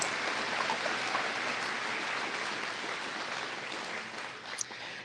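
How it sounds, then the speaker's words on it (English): A crowd at the 2023 Jackson County Fair coronation applauds Miss Jackson County and her first attendant, a faint, even wash of clapping that sounds distant and continues without a break. "one more round of applause for Miss Jackson County and her first attendant"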